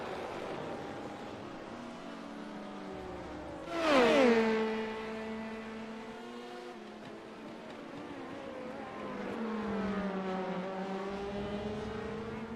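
Race cars in a sim racing sportscar championship at Road America head into the pits, engines droning with rising and falling pitch and one louder car sweeping past mid-way.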